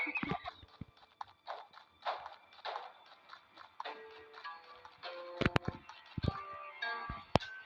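A horse's hooves clip-clop steadily in the Ertugrul Gazi video game, a fairly quiet rhythmic clatter, with a few sharper knocks and clicks near the end.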